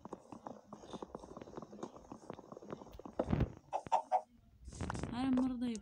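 Chickens in the Minecraft video game make a run of quick, close clucks and clicky steps, followed by louder bursts and a sustained squawk near the end.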